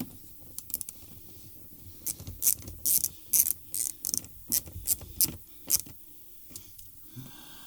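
Small screws being tightened on a car wheel liner, a series of close, sharp clicking and ratcheting bursts in uneven rhythm, with no talking over them.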